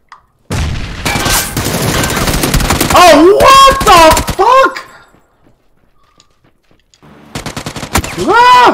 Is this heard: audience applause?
no